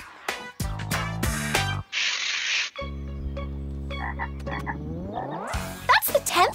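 Frogs croaking by a road, loud close calls in repeated bursts and long sustained croaks, with a short hissing spray sound between them and no talking.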